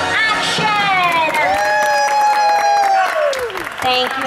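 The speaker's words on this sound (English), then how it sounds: "don't forget the thunderous applause for yours truly" Loud audience applause and cheering at a Disney's Hollywood Studios show, with whoops and shouting voices rising over continuous clapping throughout.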